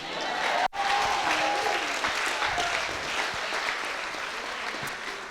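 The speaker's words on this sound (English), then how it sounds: "Can I get a round of applause for the bartenders?" Sustained applause from a party crowd for the bartenders, a dense, steady clatter of clapping that fills the room and slowly tapers.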